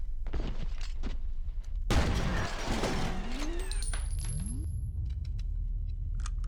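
Gunfire in the shooter F.E.A.R., with a dense burst of shots and impact noise erupting mid-clip among scattered clicks and game effects, fairly loud and with no talk.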